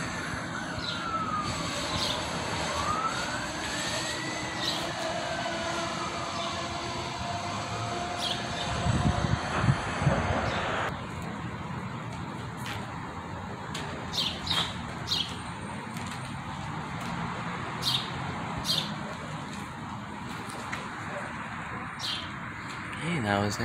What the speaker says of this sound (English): that was Amtrak 54 with P42 trailing